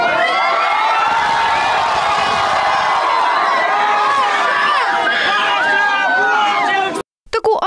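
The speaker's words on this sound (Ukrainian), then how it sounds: "Натовп ошаленілих школярів не бачить перепон заради селфі з улюбленим блогером." A crowd of excited teenage schoolchildren mobbing a blogger for selfies, loud overlapping screams and shouts filling the air continuously before cutting off abruptly near the end.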